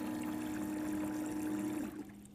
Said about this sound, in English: push the drain button and ClearVue will quickly remove the water from the tank